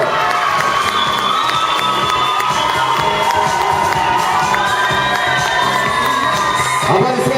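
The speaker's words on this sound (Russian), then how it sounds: "Аплодисменты Кристи и Ливию." A large audience cheers and shouts throughout an award ceremony for a love-themed contest final, with children's voices and whoops mixed into steady, loud crowd noise that swells near the end.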